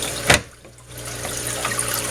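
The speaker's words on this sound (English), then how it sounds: "I have water drip into the tank" Water drips and trickles steadily into a DIY PVC overflow tank, a continuous close wash of flowing water with one brief louder splash near the start.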